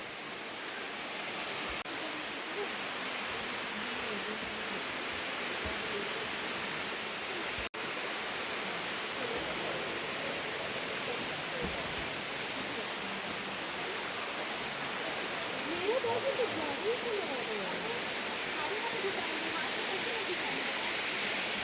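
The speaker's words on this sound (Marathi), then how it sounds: "समस्त वरून पाणी पडते आणि डोंगराची अशी कपार" Devkund waterfall in winter, water dropping from a cliff into a pool: a steady, broad roar of falling water that holds constant throughout with no talk over it.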